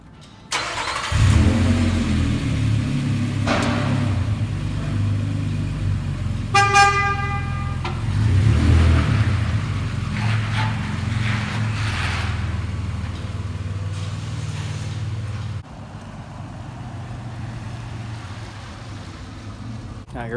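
Car driving figure eights after new tires were installed, a steady mid-range engine rumble with a brief horn-like tone partway through, continuing at moderate level for about twenty seconds.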